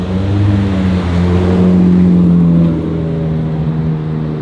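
A Competizione sports car drives past at close range. Its engine swells loud over a couple of seconds, then eases away into a fading, steady drone, with no voices.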